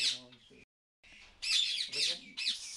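A yellow parrot with a black beak and multicoloured plumage gives bright, shrill calls in several bursts separated by a short gap, close and fairly loud.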